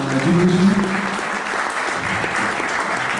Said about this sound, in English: big round of applause to all the teachers for continuing education